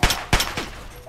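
Rapid gunfire bursts in the video game Fallout 3 played on Xbox Series S, three or four sharp loud shots in quick succession with short reverberant tails.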